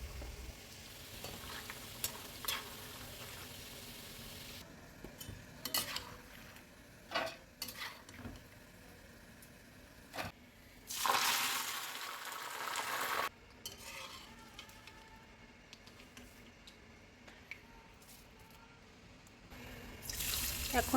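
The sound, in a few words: peanuts and curry leaves frying in hot oil in a wok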